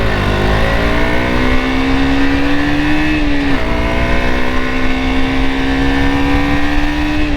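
A KTM RC 200 motorcycle engine drones loud and close while riding, holding a steady pitch that briefly dips and recovers midway through, then carries on at an even, buzzing level.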